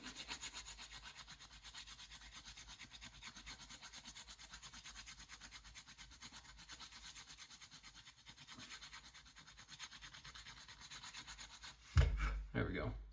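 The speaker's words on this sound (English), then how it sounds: "That needs a little more rasping right there." A rasp works steadily over a cherry wood slingshot fork, a continuous soft scraping rub heard close and quiet, ending in a brief louder handling clatter.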